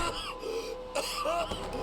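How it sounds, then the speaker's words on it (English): Arthur, the character in the video game Red Dead Redemption 2, gives a short, rough cough and throat-clear. A couple of close, hoarse bursts come within two seconds. "Ever since Guarma, Arthur has had a terrible cough"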